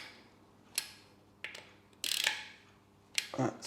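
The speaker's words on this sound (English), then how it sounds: "Just tighten up these Allen screws" A ratchet tool clicks in short bursts while Allen screws on a Royal Enfield Classic 350 engine are tightened during an oil change, several close, faint ratcheting spurts separated by pauses.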